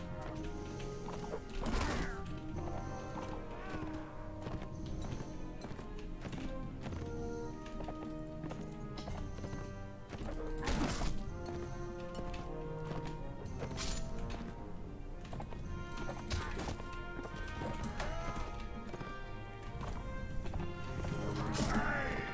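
Horse hooves galloping in the medieval combat game Mount & Blade Warband, rapid rhythmic clip-clop mixed with clashing impacts and battle noise, with someone talking now and then over the action.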